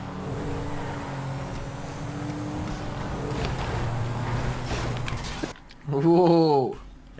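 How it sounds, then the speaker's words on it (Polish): A video game car smashes into three other cars, heard as a steady engine roar with crunching impacts under continuous excited talk, then a brief drop before a loud revving burst near the end. "Trzy auta rozdupcyłem, serio."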